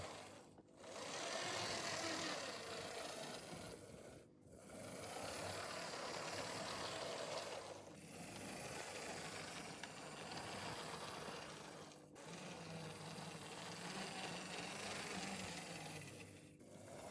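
An older Lima HO scale Swiss SBB-CFF railcar model, freshly oiled with cleaned wheels, runs smoothly with a steady whirring motor hum that dips briefly every few seconds, close by and with no talking.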